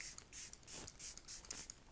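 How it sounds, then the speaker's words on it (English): She Glam Press Refresh setting spray misted from a pump bottle in several short, quiet hissing spritzes in a steady rhythm, close by and with no talking. "Next, she uses a setting spray, and I'm using the She Glam Press Refresh Setting Spray"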